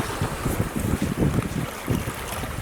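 Strong wind buffeting the microphone outdoors at a wild lakeside campsite in the Lake District, loud continuous gusty roar with rumbling low bursts throughout.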